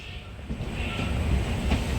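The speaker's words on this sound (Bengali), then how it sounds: "ট্রেন পৌঁছে গেছে তার যাত্রাপথের প্রথম স্টপেজ রামনগরে" Kandari Express 22898 train arriving at Ramnagar station at night, a steady low rumble of rolling wagons with faint rhythmic wheel clatter and a brief high squeal, heard from inside the train with no voices.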